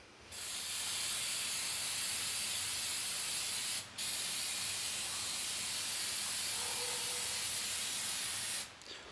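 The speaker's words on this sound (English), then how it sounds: "I'm using this here Jasco paint and epoxy remover." Jasco paint and epoxy remover is sprayed onto a nearly 200-year-old anvil in two long, steady hissing bursts from an aerosol can, close and even, separated by a brief pause, with no one talking.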